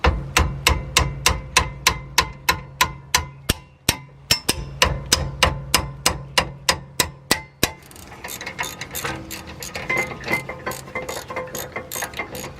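A ratchet working 16mm brake caliper bracket bolts loose on a BMW, a loud, regular series of sharp clicking strokes, then a faster, softer ratcheting spin as the bolt backs out.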